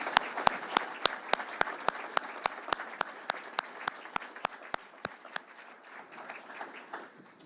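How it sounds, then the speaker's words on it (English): Applause from an audience at a city address fills the space, with one set of loud, evenly spaced claps standing out near the front before gradually fading. "Let's all give Brett a round of applause."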